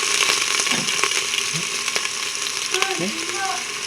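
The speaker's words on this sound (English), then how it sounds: "Put that minced garlic in there, get it going around." Minced garlic sizzles steadily in a hot pot, a constant crackling hiss with occasional scraping stirs.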